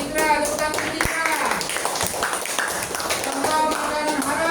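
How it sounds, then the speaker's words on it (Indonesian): Schoolchildren in a classroom clap together for a classmate during a lesson on halal and haram foods, quick uneven claps and taps mixed with children's voices and chatter. "Tepuk tangan untuk Jikra."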